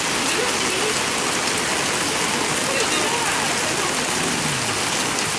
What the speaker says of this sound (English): Look at it all just pouring down the strip